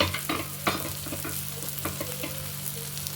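Spices, salt and turmeric sizzle in oil on a tawa for paneer, with steady frying hiss and repeated scraping stirs of a spatula, close and moderately loud.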